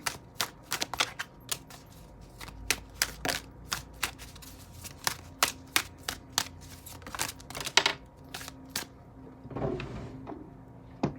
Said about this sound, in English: The cards are taking some time to get out.